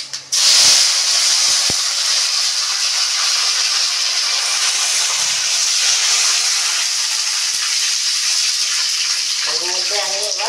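Dry red chillies, mustard seeds and curry leaves hit hot oil as a tempering for sambar, bursting into a loud, close hiss that holds steadily, with a voice briefly heard near the end.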